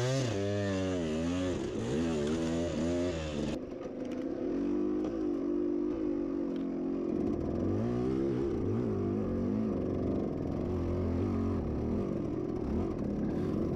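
A dirt bike engine at a muddy hare scramble race, a steady loud drone with a revving pitch sweep early on, then a lower continuous rumble that holds to the end.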